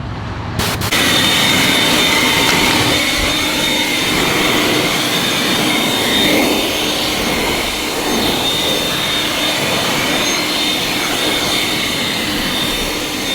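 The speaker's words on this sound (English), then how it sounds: "So blow drying, you know, limits the amount of towel wiping that's going on" A loud, steady roar of a blower drying an Audi R8 Spyder after a wash, a continuous rushing airflow with a high whine running unbroken for the whole stretch.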